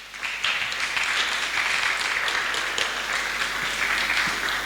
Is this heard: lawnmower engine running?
no